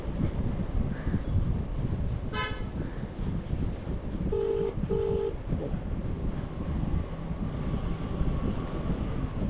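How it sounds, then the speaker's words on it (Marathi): A phone call to the Maharashtra electricity board (MSEB/Mahavitaran) rings unanswered: a short pair of steady ringback tones sounds midway, with a brief higher tone burst just before, all over constant noisy background hum. "परत मी फोन लावतो."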